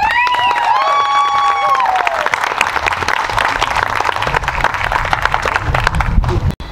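A crowd claps and cheers loudly and steadily after a whistle-like tone at the start, the applause continuing unbroken to the end.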